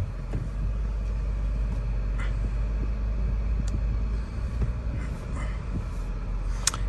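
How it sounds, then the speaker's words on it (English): A Cadillac DTS with a V8 under the hood is driving, heard as a steady, low rumble of engine and road noise from inside, unbroken for the whole stretch with no talking. "I'm gonna turn this down a little bit just so you can kind of hear the vehicle"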